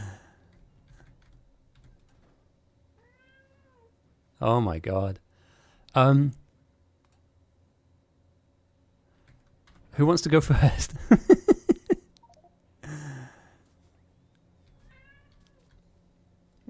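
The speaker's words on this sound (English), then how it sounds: "Why are you yelling at me? Sorry, my cat's just upset." Pet cat meowing in a room during computer gaming, several short distinct meows in separate bursts with near silence between, plus someone speaking briefly and faint keyboard typing.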